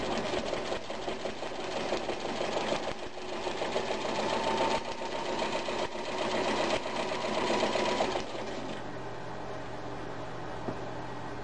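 A vintage Kenmore 148 14220 sewing machine runs a straight stitch, its steady whirring hum and rapid needle chatter going for about eight seconds before stopping, leaving quiet room noise.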